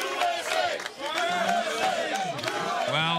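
At a strongman deadlift final, a large crowd roars and chants continuously, loud, rising cheers and shouts swelling throughout.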